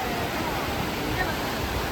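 Waves breaking on a beach make a loud, dense, unbroken rush of surf and wash, heard close and with no clear gaps.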